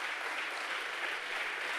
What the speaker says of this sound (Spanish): Merece un gran aplauso, Jesús.